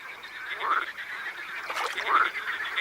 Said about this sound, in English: Amorous male marsh frogs croak their hearts out to attract egg-laden mates.